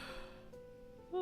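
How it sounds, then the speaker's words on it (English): A person gives one short, breathy yawn that closes with a brief voiced exhale, close and quiet. "I'm gonna yawn."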